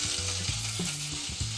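Mutton fried with a green masala paste of coriander, onion and coconut gives a loud, steady sizzle and crackle in the pan, close up and continuous with no voices.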